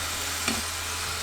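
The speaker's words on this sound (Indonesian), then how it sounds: "aduk-aduk saat digoreng agar si kentangnya ini matangnya rata." Mashed potato sizzles in a hot frying pan while being stirred, a steady soft frying hiss with one brief scrape of the spoon, no voices.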